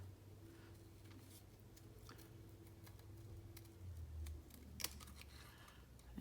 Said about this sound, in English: didn't like the way it punched it out, so I prefer to just fussy cut it